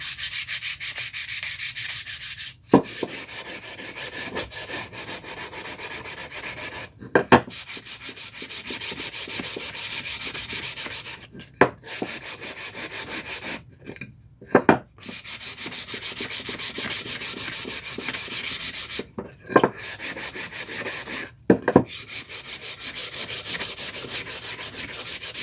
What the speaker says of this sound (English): I'm going to stop talking and let you listen to the sandpaper